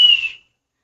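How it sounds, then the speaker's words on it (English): A whistle gives one short, shrill blast that fades out quickly, followed by silence. "I hear a whistle, whistle, whistle, whistle, whistle."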